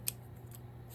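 Scissors fussy cutting paper for a craft journal, heard as a single short crisp snip near the start followed by a fainter second cut, close up against a low steady hum.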